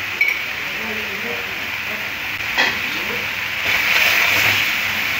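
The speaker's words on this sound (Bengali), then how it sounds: "এবার সব মশলাগুলো একটু কষে নিতে হবে।" Spices being sautéed in a pan for a Bengali shahi prawn curry, giving a steady close sizzle and hiss throughout with small clinks and slightly brighter frying toward the end.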